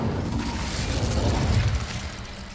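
A fire spell cast in Hogwarts Legacy, heard as a sustained roaring, crackling burst of flame with a low rumbling body that swells midway and stays loud throughout, with no voices.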